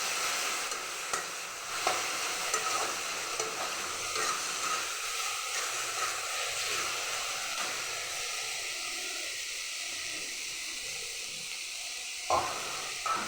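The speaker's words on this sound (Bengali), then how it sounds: "দিয়ে মশলাটাকে ভালো করে ভেজে নেব।" Spice masala with turmeric and salt frying for a chicken liver dish, a soft steady sizzle with light stirring scrapes and a brief clatter near the end.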